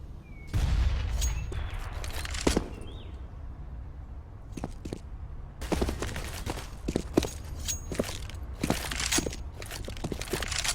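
Sharp pistol shots in Counter-Strike on the Cobblestone map, a few isolated cracks early, then a denser run of rapid shots, with scattered footsteps and clatter between bursts and no commentary over them.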